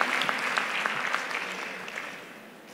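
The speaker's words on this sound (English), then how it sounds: "A resounding round of applause." Conference audience applauds the moderator, brisk crowded clapping at moderate distance that fades steadily over a couple of seconds.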